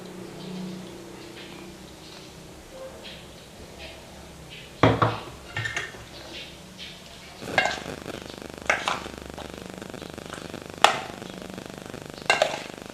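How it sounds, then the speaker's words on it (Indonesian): Washed fish being stirred into a cooking pan, with scattered sharp clinks and scrapes of a utensil against the pan over a soft background hiss. "Mbak Ica campurkan ikannya"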